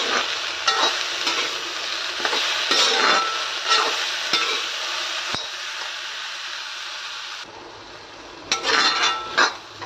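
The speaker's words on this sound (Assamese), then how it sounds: "ধুনীয়াকৈ ভাজি এতিয়া মই অলপ সময় এনেকৈ ভাজি থাকিম মই" Local meat fries and sizzles with meat masala in a pan, a steady loud hiss broken by repeated scraping stirs, with a brief pause near the end before the sizzling and stirring return.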